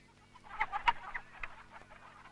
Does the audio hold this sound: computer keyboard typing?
no